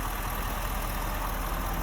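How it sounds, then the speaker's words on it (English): Ford F-250 King Ranch Super Duty from 2023 with a 6.7L turbo diesel V8 idling, a steady, fairly quiet low rumble heard close up with no talking. "Very quiet for the size of this turbo diesel V8."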